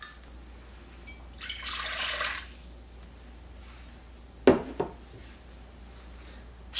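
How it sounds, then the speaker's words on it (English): Warm water poured into a stand mixer bowl fitted with a dough hook, a short hissing splash lasting about a second, then quiet followed by a couple of light knocks. "add the warm water,"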